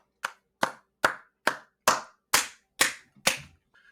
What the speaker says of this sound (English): Can I get a little applause?